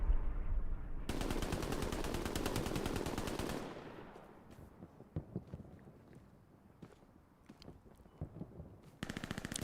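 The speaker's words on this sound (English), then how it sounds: "Joker sets up the MG42." A long, rapid, loud burst from an MG42 machine gun in a multiplayer war game, followed by scattered single shots and distant gunfire, then another burst starting at the end.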